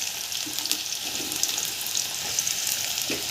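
Cumin, garlic and onion frying in a hot pan for a green brinjal bharit, a steady close sizzle and crackle running throughout with no voices.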